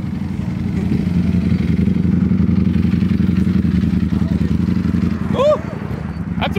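Motorcycles idle and rumble at a supercar show, with a steady low engine drone running throughout under nearby voices, and a brief rising rev near the end.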